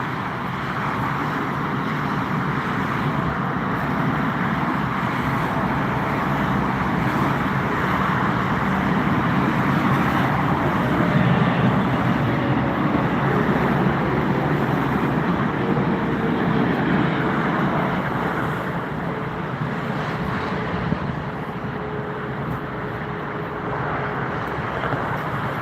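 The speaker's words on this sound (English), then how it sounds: "China Cargo Airlines on flight number CK235 from Chongqing to Frankfurt is arriving. It's a Boeing 777." A China Cargo Airlines Boeing 777 arrives at Frankfurt airport, its engines a broad, steady roar holding loud and constant throughout, slowly easing only slightly near the end.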